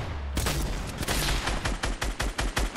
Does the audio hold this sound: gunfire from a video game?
yes